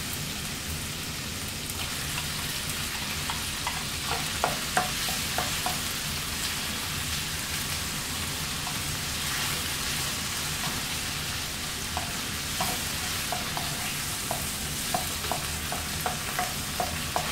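Chicken frying in a pan with sautéed garlic, a steady soft sizzle throughout with occasional small pops and crackles, moderately quiet and without talk.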